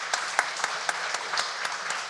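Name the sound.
church congregation applause welcoming eight new members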